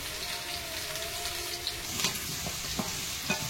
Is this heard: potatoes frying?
yes